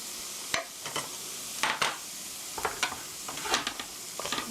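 A spatula stirs scrambled eggs with onions in a hot pan for a rice bowl, giving soft scraping strokes in an uneven rhythm over a low, steady sizzle.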